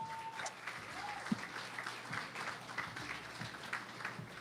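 Audience applause at the Miss Tobago 2024 beauty pageant, a steady wash of many hands clapping from a crowd, sustained and fairly even throughout with faint voices mixed in.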